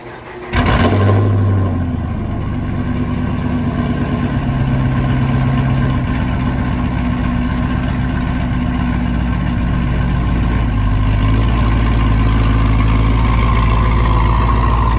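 A warmed-up Pontiac G8 GT V8 settles into a steady, deep idle after a brief start, its loud low rumble continuing evenly and close throughout.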